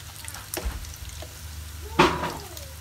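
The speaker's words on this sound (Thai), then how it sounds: "ก็ลงเอาไปทอดนะคะคือใส่น้ำมันไม่ต้องเยอะนะคะใส่น้ำมันนิดหน่อย" Pork cutlet for tonkatsu shallow-frying in a little oil in a pan, a soft steady sizzle with a louder hiss burst midway as the piece shifts, close by, with no talking.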